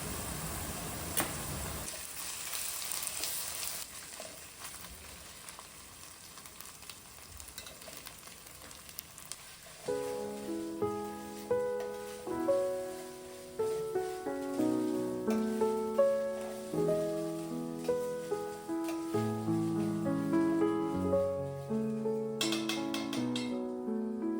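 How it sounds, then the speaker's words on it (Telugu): Ginger-garlic paste frying with onions in a pan gives a soft, continuous sizzle with light stirring, and gentle background music plays over it for the second half. "ఇలా అల్లం వెల్లుల్లి పేస్ట్ అంతా కూడా మంచిగా ఫ్రై అయ్యి గోల్డెన్ కలర్ వచ్చిన తర్వాత"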